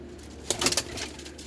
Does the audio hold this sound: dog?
no